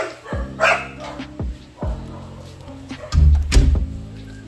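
A dog barks in short, loud bursts, several barks spread across the clip with a heavier cluster near the end, close to the listener.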